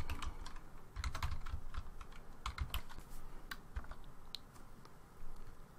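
Close, brisk typing on a computer keyboard, a quick irregular run of key taps with short pauses between bursts and no talk.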